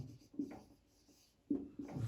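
Marker or chalk strokes on a board while a linear polynomial is written out, faint rubbing scrapes in short bursts separated by a quiet pause, close by.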